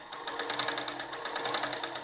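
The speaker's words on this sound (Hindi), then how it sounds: "ये देखिए अब मैं सिलाई मारूंगी बिल्कुल ये बुकरम के साइड में" A sewing machine runs continuously, a fast, even whirring patter as it stitches right along the edge of buckram on a kurti sleeve. It is close and steady, with no talking.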